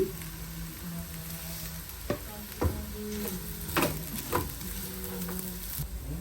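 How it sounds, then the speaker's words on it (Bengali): Rice for a Sylheti akhni fries with diced potatoes, green chillies and salt. A steady sizzle runs throughout, broken by repeated scraping stirs and clanks of the spoon against the pot, and no one speaks. "চালগুলা ভাজা হয়ে গেছে এখন আমি মাংস দিয়ে দিতেছি"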